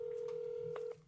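A telephone plays a steady dialing tone for about a second, loud and close, with a couple of brief tone changes before it cuts off.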